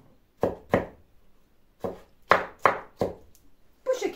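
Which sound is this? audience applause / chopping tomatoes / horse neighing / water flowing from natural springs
chopping tomatoes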